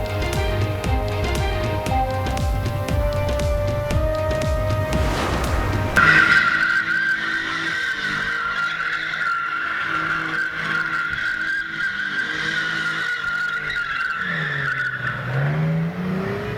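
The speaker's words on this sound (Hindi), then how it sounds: "इस्लामाबाद में जिना एवेन्यू पर कार ड्रिफ्टिंग।" Car drifting on Jinnah Avenue, a city avenue in Islamabad, with loud sustained tire squeal and engine roar that carry on steadily for most of the stretch after a burst of other sound at the start.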